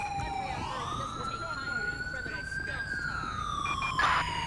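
Emergency vehicle siren in Grand Theft Auto V, a single loud rising and falling wail sweeping up and then down, with a brief radio dispatch voice talking underneath.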